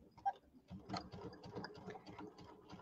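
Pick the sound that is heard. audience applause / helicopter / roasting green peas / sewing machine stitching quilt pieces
sewing machine stitching quilt pieces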